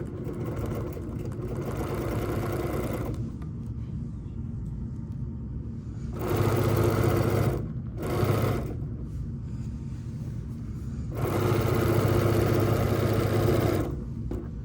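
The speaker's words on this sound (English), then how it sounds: "so now we're gonna stitch our bow tie block on." A sewing machine stitches a bow tie quilt block in short, loud bursts of rapid mechanical whirring, separated by quieter pauses with a low background hum.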